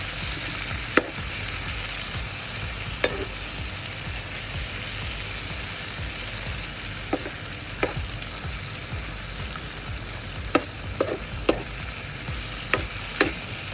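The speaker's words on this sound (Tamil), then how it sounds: "வெங்காயம், தக்காளி, கறிவேப்பிலை, கொத்தமல்லி இலை, புதினா, மிளகாய் சேர்த்து கிளறிக்கொள்ளுங்கள்" Onion, tomato, curry leaves, coriander, mint and chilli sizzle and fry in a pan for a vegetable biryani, a steady close crackle broken by occasional sharp scrapes and taps of stirring, with no voices.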